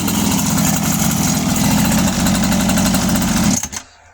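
A motorized bicycle engine runs steadily close by with a buzzing, rattly drone, then cuts off sharply near the end, leaving near silence.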